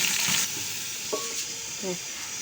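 Spiced rice frying in very hot ghee with a spoonful of cold ghee added gives a steady close sizzle, with a brief stirring scrape partway through.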